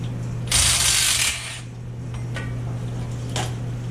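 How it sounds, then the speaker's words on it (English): Center bolt being removed from worn rear leaf springs on a 2011 Ford F350 dually: a loud, close mechanical rattle of tool on metal for about a second, then quieter clicks over a steady low hum. "what we're doing is we're taking the center bolt out"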